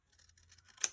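Scissors snipping a small piece of paper for bookbinding hinges: faint rustling, then one crisp, close cut at the end.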